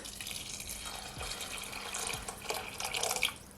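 Tap water poured into a cooking pot holding uncooked rice, a steady splashing flow that swells louder toward the end, with no talking.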